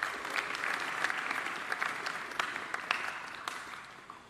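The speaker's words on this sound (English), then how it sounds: "please give each other a round of applause" Graduates at a high school graduation ceremony applaud one another, a sustained round of clapping from a crowd in a hall that rises quickly and then slowly tapers off.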